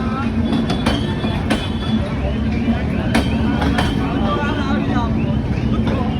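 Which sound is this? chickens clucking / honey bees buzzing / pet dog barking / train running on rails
train running on rails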